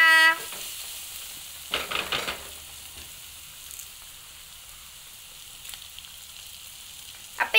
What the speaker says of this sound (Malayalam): ഇനി നമ്മൾ ഉള്ളി വാടാൻ വേണ്ടിയിട്ട് നമുക്ക് കുറച്ച് ഉപ്പ് ചേർത്ത് കൊടുക്കാം